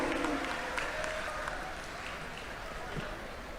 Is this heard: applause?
yes